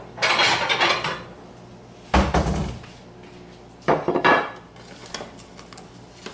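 Homemade gluten-free keto bread loaf knocked out of its baking pan and set onto a plate, giving three separate clattering bursts of pan and plate contact, close and fairly loud, with quiet gaps between.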